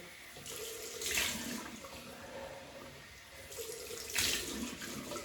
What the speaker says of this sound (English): So I can rinse that off now. Cold water.